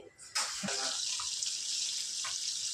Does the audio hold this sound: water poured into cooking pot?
yes